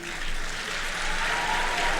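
Audience applause for the girls at a public gathering, a steady, dense roar of many hands clapping, moderately loud and sustained throughout without pauses.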